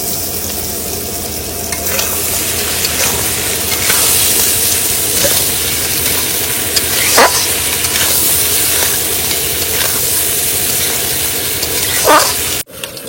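Crab masala stir-fried in a pan, a steady loud sizzle running throughout with occasional scraping strokes of a spatula, close and continuous with no talking.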